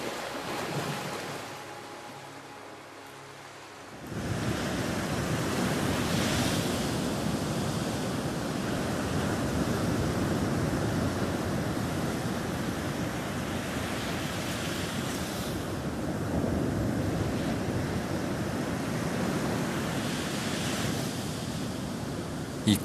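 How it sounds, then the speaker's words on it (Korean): Strong wind and crashing waves on the open ocean roar continuously and loudly after a quieter opening, a dense steady wash of surf. "이 커다란 바람과 파도가"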